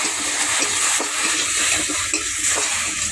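Cut, washed okra with salt and spice powder fries in a pan, giving a steady, dense sizzle throughout, with a few soft scraping ticks from stirring.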